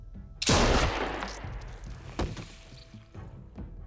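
Gunfire in The Walking Dead: A New Frontier video game: a loud, close shot rings out and decays, followed by a second sharp report and a few fainter thuds, with no talking.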